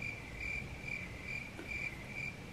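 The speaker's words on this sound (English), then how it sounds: "Cue the crickets." Crickets chirp as a sound effect, a regular run of short, evenly spaced pulses over quiet hiss, with no voices.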